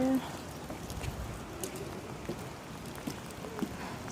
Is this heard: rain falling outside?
yes